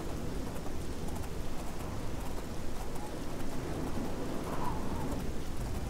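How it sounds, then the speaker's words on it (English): Steady rain falls in the video game Oblivion, a constant hiss of drops that holds at a moderate level throughout, alone and with no voices. "Can it stop raining already? It's been raining like all day"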